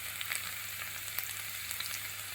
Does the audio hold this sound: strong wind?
no